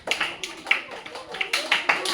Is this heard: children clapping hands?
yes